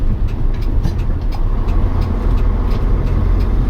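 A 1992 Hino GS truck's diesel engine drones steadily while driving, loud and close, with a low rumble and faint clatter as gears are shifted through its simple 5-speed gearbox.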